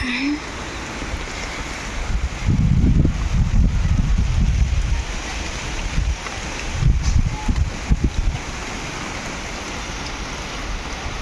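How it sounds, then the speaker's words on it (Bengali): Rain falls steadily during a sudden out-of-season storm at a home, with strong gusts of wind swelling and roaring over the patter, loud and close throughout. "বৃষ্টিটা একটু কমই হচ্ছে মানে অতটাও জোরে হয়নি তবে হাওয়াটা কিন্তু হচ্ছে খুব"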